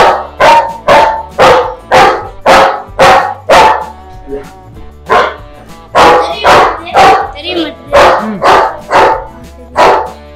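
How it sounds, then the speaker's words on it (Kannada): A dog barks loudly and close by in a steady run of about a dozen sharp barks, evenly spaced across the whole stretch, with faint voices underneath. "ಗುರು ಅಲ್ಲಂತೂ ನಾಯಿ ಇದೆ."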